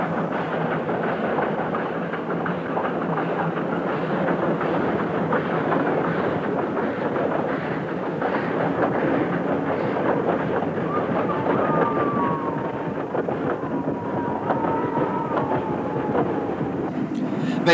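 A steam train runs on an Indonesian railway, heard as a continuous low rumble and rattle of wagons on the rails, with faint whistle-like tones partway through and someone narrating over the noise throughout.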